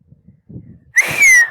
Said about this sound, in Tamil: விசில் அடி இரு விசில் அடிச்சிருவோம்